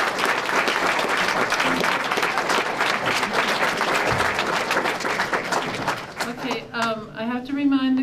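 Audience applause at a sheriff candidates forum in Taos County, a sustained, loud round of clapping from a crowd that fades out near the end as a voice starts talking.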